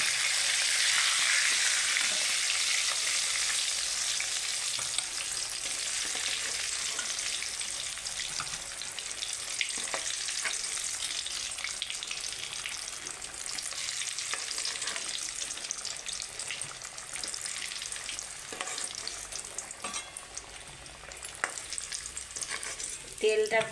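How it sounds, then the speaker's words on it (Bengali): Potato pieces frying in hot oil for a home-style chicken curry, giving a steady, close, bright sizzle that lasts throughout with occasional small pops and stirring clicks, and no talking. "আলুটা ভেজে তুলে নেব লাল করে।"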